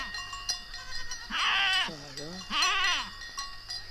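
Goats bleating in an animated film set in the Alpine mountains, two loud wavering bleats close together with faint cowbell-like clinks in the background.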